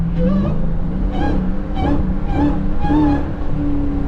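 A loud Dodge Hellcat engine rumbles and revs in repeated surges, the pitch rising and falling in waves, close and continuous.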